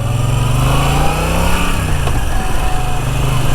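A Moto Guzzi V9 Bobber motorcycle engine on a test ride, a loud, steady engine drone with a rising rev, heard up close over rushing wind.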